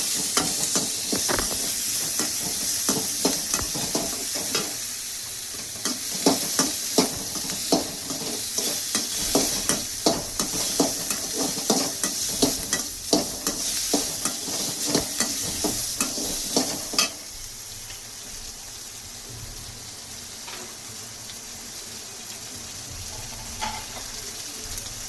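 Quartered tomatoes stir-fried in oil in a pan, a steady sizzle with rapid scraping stirs for most of the stretch, then settling to a softer, quieter hiss with no one speaking.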